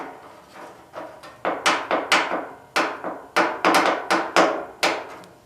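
Sharp metal-on-metal hammer blows shrinking a deep dent in steel on a Ford F100 tailgate, about a dozen distinct strikes in an irregular rhythm that grows steadier and louder, close by with no talking.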